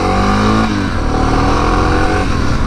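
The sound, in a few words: XR650 motorcycle accelerating, lifting front wheel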